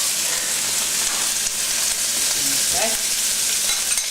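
Fried rice with egg, sesame oil and Spam frying on high heat in a pan, a steady loud sizzle with occasional stirring scrapes, and a brief spoken word over it.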